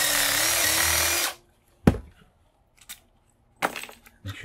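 A power tool backing two screws out of an electric motor being stripped for scrap: a loud, steady whir for just over a second, then sudden silence broken by a few sharp metallic clicks and clatters up close.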